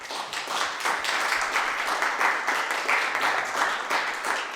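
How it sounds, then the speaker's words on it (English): An audience gives a steady round of applause at a live crowd Q&A event in Richmond, Virginia, a dense wash of many hands clapping continuously at moderate distance. "give yourselves a round of applause for taking a chance on this event"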